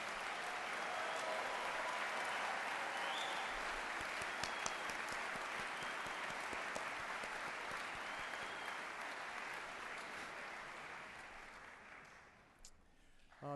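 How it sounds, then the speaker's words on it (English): Sustained applause from a large commencement audience honoring the graduating class at a West Virginia University ceremony, a dense steady wash of clapping lasting over ten seconds before tapering off near the end. "How about one more round of applause for the graduating class of 2012?"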